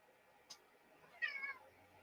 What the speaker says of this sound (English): I don't know if the mic picked that up, but my cat Vladimir says hi.